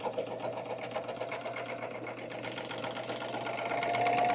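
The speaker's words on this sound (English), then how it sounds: "we're just going to sew along the edge here again" A sewing machine runs continuously along the fabric edge of a tote bag, a close, steady rapid mechanical whir with a fine rhythmic stitching pulse, growing slightly louder toward the end.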